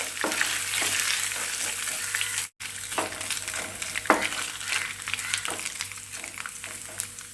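Chopped coconut pieces fry lightly in oil with a steady, moderate sizzle and occasional stirring scrapes, broken by a brief dropout partway through, with no one talking, while a jackfruit masala is prepared.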